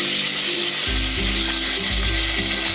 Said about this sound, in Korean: 냄비가 뜨거워지면 소고기를 넣고 볶아주세요.